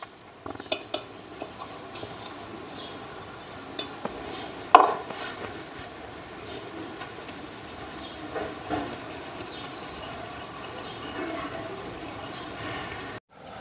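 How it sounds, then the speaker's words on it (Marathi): Ground peanut powder is sifted through a metal sieve at home for peanut kaju katli, a soft continuous scratchy rustle punctuated early by a few sharp metallic taps and clinks, faint and close throughout. "आता ही चाळणी घ्यायची, या चाळणीत असं टाकून घ्यायचं"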